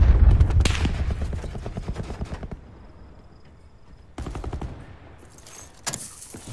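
Automatic gunfire from a VKM 750 light machine gun in Call of Duty: Black Ops 4, loud rapid bursts at the start, a quieter gap, then further bursts of shots near the end.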